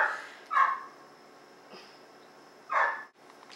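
A dog barks outdoors in two loud, separate yelps with a fainter one between, heard from indoors against a quiet background.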